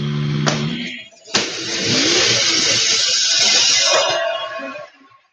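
A drag racing car at a dragway makes a sharp pop, then a second bang and a loud, sustained high-revving engine roar for several seconds that cuts off abruptly, close and forceful.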